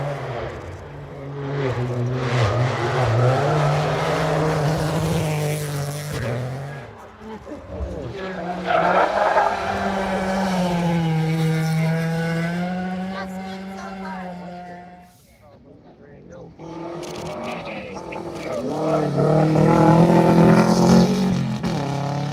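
Rally race cars sweep past at a stage, engines rising and falling in long passes with skidding on loose ground, loud and close, some voices mixed in.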